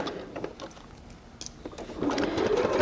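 A sewing machine runs a simple 2.5mm straight stitch around a fabric hand warmer, with quiet handling sounds first and then a steady, close motor hum building toward the end.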